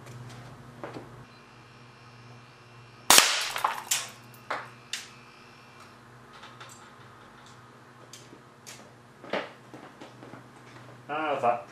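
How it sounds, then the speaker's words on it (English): A homemade air cannon fires a .177 steel BB at an old CD-ROM held in a small vise 10 meters away, giving one sharp loud crack. Lighter ticks and clatter follow, with a steady hum underneath. "That particular shot was at 350 psi, and the CD is destroyed."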